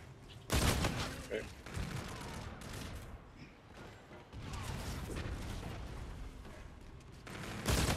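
A Banshee Doppler shotgun fires during a video game match, with a loud blast near the start and another at the end, and busy gunfire and clatter in between. Speech is faintly mixed in.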